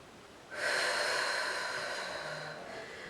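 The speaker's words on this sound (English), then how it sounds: "Let's do 2 more long breaths" A single long, deep breath taken during a Pilates exercise, a close, airy rush that swells and then slowly fades over a couple of seconds, with no talk.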